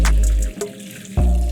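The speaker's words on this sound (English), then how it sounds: "Clean the beef under running water." Tap water runs strongly onto blanched beef shank in a sink, a loud, close splashing stream that dips briefly as the meat is moved before surging again.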